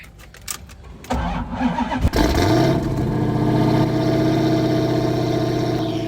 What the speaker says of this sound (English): Not like a good cold start, boys.